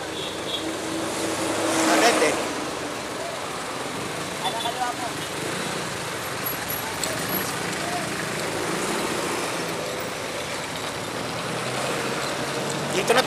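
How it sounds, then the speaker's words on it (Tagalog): Steady road traffic with jeeps passing, heard from a motorist's vantage as a continuous broadband rumble and whoosh with a brief louder swell early on, with faint voices in the background. "Traffic."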